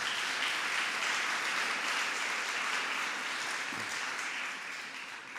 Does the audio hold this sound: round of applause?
yes